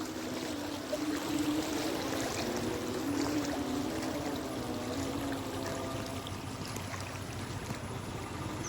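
Floodwater rushes across a road continuously nearby, a steady gushing flow with a faint low rumble underneath, no talking.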